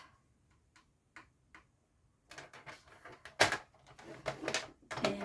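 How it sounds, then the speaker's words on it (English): A paper trimmer scores cardstock: a few faint, spaced ticks first, then a louder stretch of scraping and clicking strokes, close and without talk. "I'm going to use my trimmer to do the scoring"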